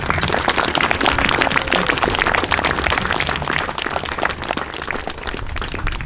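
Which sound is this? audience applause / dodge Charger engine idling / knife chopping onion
audience applause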